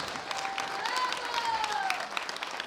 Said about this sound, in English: One more big round of applause for our three winners.